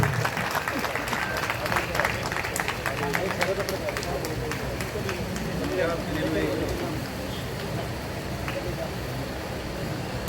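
A crowd at a student education meet-up gives sustained applause, a dense clapping wash that carries on for about ten seconds, with voices underneath.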